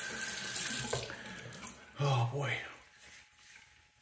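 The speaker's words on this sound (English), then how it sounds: "let's wet the face really quick with some warm water" Warm water runs from a sink tap to wet the face before a straight-razor shave, a steady broadband rush under brief spoken exclamations, close and moderately loud, fading toward the end.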